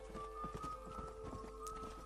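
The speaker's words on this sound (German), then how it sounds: "Ja, mein Pferd Bernhard" Horse hooves clip-clop at a steady walking rhythm in the Western video game Red Dead Redemption, faint and evenly paced over a quiet background hum.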